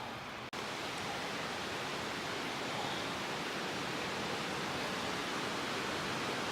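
A waterfall at Grassi Lakes near Canmore, Alberta, in late season, makes a continuous broad rushing hiss, steady and fairly faint, with no voices.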